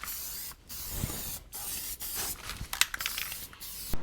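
Several short bursts of aerosol undercoating spray hiss from a can, broken by brief pauses, close and fairly loud, with no talking.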